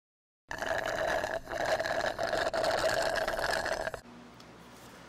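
A car fuel pump slurping in air near the bottom of an almost empty tank makes a steady, buzzing, gurgling whir for a few seconds before cutting off to quieter background.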